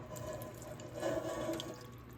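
Egg whites poured from a carton, a soft, faint liquid trickle with a slight gurgle that swells briefly in the middle, no voices.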